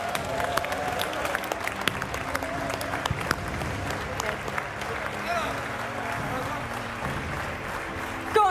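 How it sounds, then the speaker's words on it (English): An audience at an ESL R1 esports major championship claps steadily in a dense, continuous round of applause, with an announcer's voice and crowd noise mixed in throughout. "Another round of applause."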